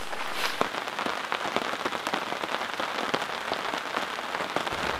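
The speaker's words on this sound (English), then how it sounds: "the rain is coming down harder again" Heavy rain patters densely and steadily on surfaces at a wilderness lakeside campsite in a northern mountain rainforest, close and continuous with many distinct drops ticking through the hiss.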